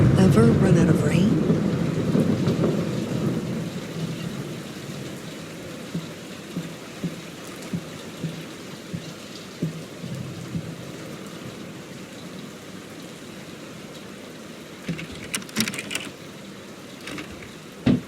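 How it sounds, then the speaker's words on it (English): Heavy rain and a rolling thunderstorm in the horror video game Layers of Fear, loudest at the start and fading to a soft steady patter, with scattered drips and a later rumble. "Will this storm ever run out of rain?"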